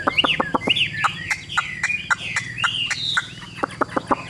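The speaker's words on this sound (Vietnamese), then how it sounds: "đứng hót từ nãy giờ rồi, được khoảng tầm 3 phút rồi nhưng mà chim chưa hề di chuyển một tí nào luôn" A caged, yellow-beaked songbird sings nearby, giving loud, rapid whistled phrases of swooping and sharply repeated notes over a faint low hum.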